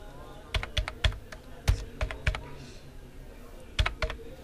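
Fingers tap out a number on a computer keyboard in a shop setting, with several quick clusters of close, crisp keystrokes separated by short pauses.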